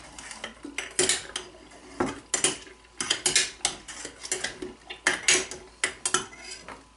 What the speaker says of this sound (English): Mix this together a little bit more here